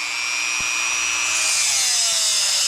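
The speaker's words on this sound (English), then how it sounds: "We're going to do the grinding" A power grinder cuts into a locked axle nut on a 2003 Toyota Camry passenger-side axle, with a loud, close, steady high whine that rises in pitch as it bites, with a brief knock near the start.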